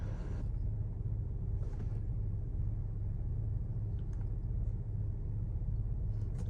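A car engine idles steadily with the motor running while a diagnostic scan tool is set up, giving a low, even rumble throughout with no speech.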